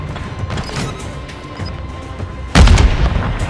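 A grenade detonates in Modern Warfare 3 multiplayer, a loud, close blast that bursts out suddenly near the end after a stretch of steady gunfight ambience and distant rumbles.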